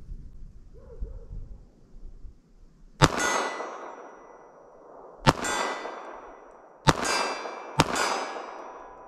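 Four sharp, loud gunshots from a compact .380 ACP pistol firing Hornady Critical Defense rounds, spaced a few seconds apart, each with a ringing echo decaying behind it, after a quiet opening.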